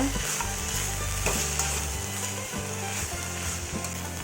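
Coriander being fried in a pan gives a constant crackling sizzle with repeated scraping stir strokes, close and steady throughout without any speech.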